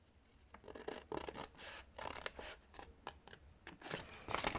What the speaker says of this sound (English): And we finish cutting.